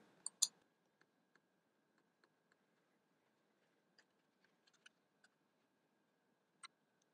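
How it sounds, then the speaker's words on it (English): A microSD card ejected and swapped for a SanDisk high-endurance card in a Raspberry Pi setup, heard as a handful of faint, scattered small clicks and ticks in near silence. "I'll eject this and I'll put the SanDisk card in."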